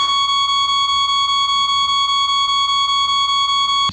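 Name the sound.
censor bleep beep over speech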